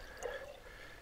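Homemade chaga wood stain is poured into an old jam jar, a faint, short liquid trickle and drip heard close up in a quiet room.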